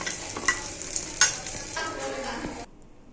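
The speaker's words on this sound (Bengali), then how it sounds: "আর এইখানে দেখো এগুলো ভাজাভাজি করতেছি" Vegetables fry and sizzle in a pan for bharta, a soft continuous crackle broken by a few stirring scrapes, then cutting off abruptly into near silence.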